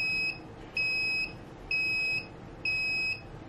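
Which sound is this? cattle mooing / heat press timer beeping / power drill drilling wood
heat press timer beeping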